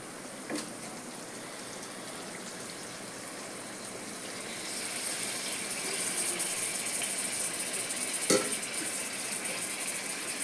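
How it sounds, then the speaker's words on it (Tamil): Pieces of mutton tipped into a pan of hot, ready masala for a mutton gravy, setting off a steady, fairly loud hiss and crackle that grows stronger midway, with a couple of sharp knocks. "இப்போ மட்டன் போடலாம்."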